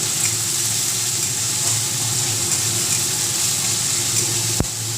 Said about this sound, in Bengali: পেঁয়াজটা দিয়ে দিয়েছি এবার পেঁয়াজটাকে ভালো করে একটু ভাজা ভাজা করে